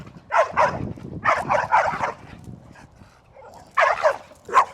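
Two dogs in a group training class bark, yip and whimper in short bursts while playing, several clustered vocal outbursts close by, a pause, then more yelps.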